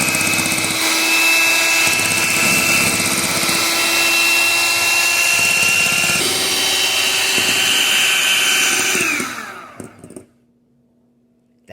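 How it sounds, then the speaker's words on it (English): Electric hand mixer whipping eggs toward stiff peaks, a loud, steady high-pitched motor whine whose pitch shifts partway through, then stops abruptly, leaving near silence. "let's go ahead and mix this up with the Turbo Master 4000"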